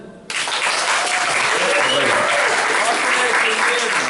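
Students at a festival event break into loud, dense applause that starts abruptly and holds steady, with some voices in the crowd.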